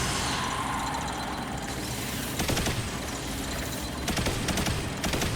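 Rapid automatic fire from the Heir Apparent exotic machine gun in Destiny 2, during a Legend Lost Sector, crackling continuously over game noise with louder bursts near the middle and end.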